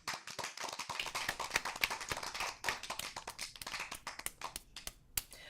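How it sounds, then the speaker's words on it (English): Polite applause in the video game Asagao Academy, a dense patter of many quick, light claps from a small group, steady for several seconds and then tapering off, with no voices. "PBG and John clapped politely for us"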